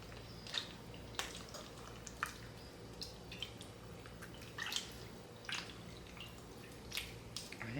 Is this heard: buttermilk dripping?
yes